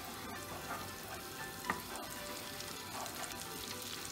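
Olive oil and butter sizzle and crackle steadily in a frying pan for minced-meat kebab, a close, even hiss with a faint clink of a utensil partway through and no voices.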